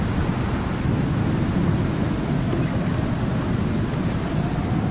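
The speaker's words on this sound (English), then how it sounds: "Storm is so loud." A loud storm in the survival game ICARUS makes a dense, unbroken rumble of wind and rain noise, steady and heavy for the whole stretch with no voice over it.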